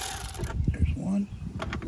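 A ratchet turns out 10 millimeter bolts near the cam position sensor of an Infiniti JX35/QX60, a few short clicking and metallic ratcheting bursts, close by over a brief moment.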